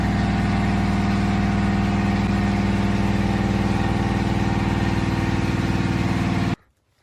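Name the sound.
car engine running, put in gear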